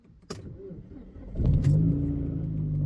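A Volvo S40 engine cranks after a couple of clicks, catches and settles into a steady, close rumbling idle.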